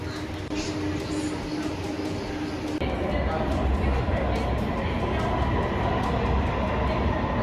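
A subway train in Suzhou, China rumbles steadily nearby, with rail noise and a clattering rise in loudness partway through.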